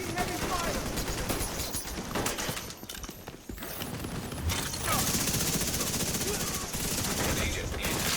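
Mini tanks firing guns in Division 2, rapid sustained automatic gunfire in rattling bursts with a brief lull, loud and close, with someone talking over it.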